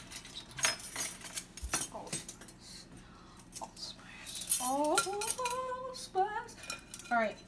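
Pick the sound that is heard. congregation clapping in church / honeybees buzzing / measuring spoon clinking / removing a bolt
measuring spoon clinking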